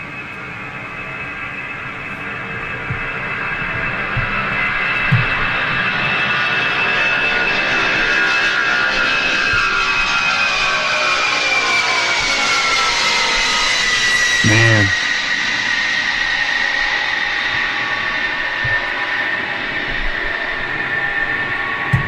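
A Lockheed C-5 military transport aircraft passes overhead with a loud sustained jet roar, and a whining engine tone sweeps downward as it goes by. A brief spoken word is heard.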